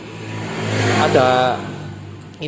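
Engine with a stock plug-and-play camshaft revs on a test run, a steady mid-pitched drone rising to a sharper rev peak near the middle before easing off, fairly loud and close.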